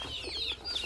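Two-month-old chicks on a farm give soft, quick clucks and peeps close by, without speech.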